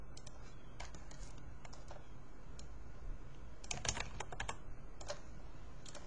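Rapid typing on a computer keyboard, steady light key clicks with a brief faster burst near the middle, close and clear over a soft background hum.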